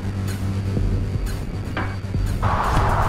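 Strong headwind buffeting a microphone while cycling, a loud low rumbling roar with throbbing gusts and a brief rushing swell near the end.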